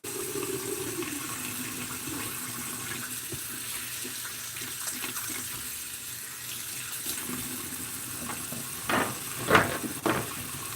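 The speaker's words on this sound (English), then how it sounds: "I don't want to touch it without washing my hands." Water runs from a tap into a sink while hands are washed, a steady wash of flow with a few louder splashes near the end.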